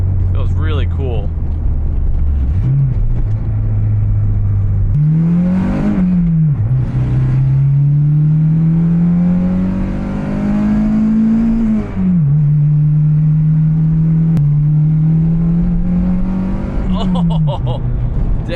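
Acura RSX engine revving hard through its header and climbing into VTEC, a loud, close, rising drone broken by quick shifts and bursts of acceleration, with a voice talking over it.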